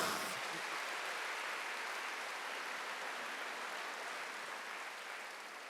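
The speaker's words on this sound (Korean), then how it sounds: "빨리 박수해." A church congregation claps during a Sunday worship service, a soft, distant wash of applause that holds steady and fades slightly toward the end.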